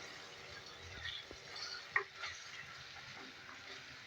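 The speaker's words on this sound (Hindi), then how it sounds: "अब इन मसालों को डाल के अच्छी तरह मिक्स करेंगे, इसके साथ भुनाई करेंगे" Spiced beef being roasted with masala in a pan, a faint continuous sizzle with occasional soft stirring knocks and one sharper clink.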